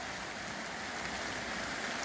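First rain of the year falling on an outdoor bike: an even, unbroken wash of drops pattering close by, steady in loudness from start to finish.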